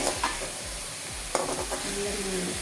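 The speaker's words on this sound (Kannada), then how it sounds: "ಫ್ರೈ ಮಾಡಿ" A close, steady sizzle of egg fried rice frying in oil in a pan, with repeated scraping and stirring strokes of a spatula against the metal, no talking.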